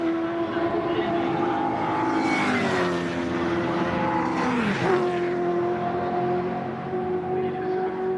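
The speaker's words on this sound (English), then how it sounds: "That Scott sounds like a Formula 1 car blasting through this" A high-revving racing car engine at a Mini Miglia, Libre and BCV8 championship race whines loudly, climbing in pitch as it approaches, then dropping sharply as it blasts past, with faint talk underneath.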